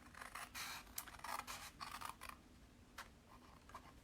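Scissors snip out four square corners for a tea bag holder: a faint, quiet run of short crisp cuts in uneven bursts, with no talking.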